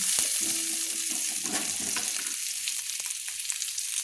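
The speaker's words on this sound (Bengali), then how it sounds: "ভেজে রাখা আলুগুলো আমি তুলে নিচ্ছি একটা প্লেটে" Small new potatoes coated in turmeric fry in hot oil, a loud, bright, continuous sizzle with faint crackles and a few stirring scrapes, heard close with no voices.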